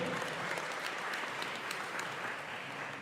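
Steady, dense applause rises from the crowd at a basketball game as a player is introduced, holding at an even level throughout.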